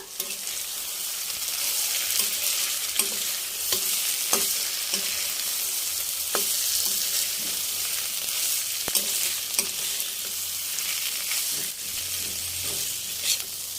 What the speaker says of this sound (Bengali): আমার ভালো করে কষিয়ে নেওয়া হয়ে গেছে